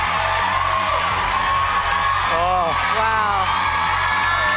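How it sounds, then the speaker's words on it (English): Wild cheering from a TV studio audience at the Australian Idol finale, a dense, steady roar of crowd noise with whoops, while a nearby voice briefly exclaims over it. "The crowd in here tonight is going wild."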